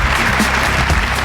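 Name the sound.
studio audience applause on a Telugu TV show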